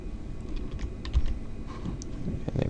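Typing on a computer keyboard, quick irregular key clicks close up over a short stretch, with no voice.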